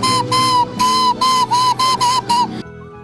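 A traditional Ukrainian clay whistle made by a potter gives a series of about seven piercing, steady tones in short bursts with brief gaps, close and loud with no voices.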